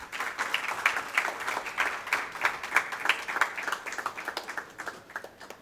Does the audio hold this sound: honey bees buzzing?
no